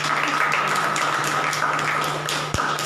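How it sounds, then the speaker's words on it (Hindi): An audience claps together in a dense, steady burst of applause that lasts the whole moment, loud and close, with no talk over it. "बजाओ ताली"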